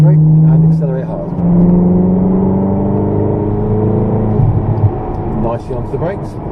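A supercar accelerates hard on the Rockingham race track, its engine note climbing steadily and loudly before dropping at a gear change, with a driving instructor's voice faintly over the cabin noise.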